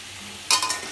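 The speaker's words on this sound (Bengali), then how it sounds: "আমি আলুটা ভেজে নেব" Diced potatoes dropped into hot oil in a wok burst into a loud sizzle halfway through, the frying hiss carrying on steadily to the end with no talk.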